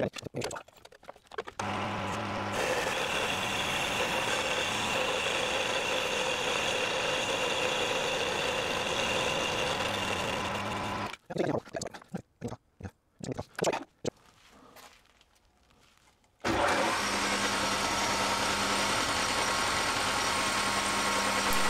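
A metal lathe turns down a tapered section of an expanding lapping tool, giving a steady close machining whir that cuts out, sputters through short bursts and quiet, then resumes.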